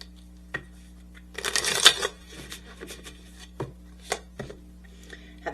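Tarot cards being shuffled by hand, a burst of rapid riffling fluttering for about half a second, followed by scattered soft taps and slaps of cards being laid down, close and clear against a low steady hum.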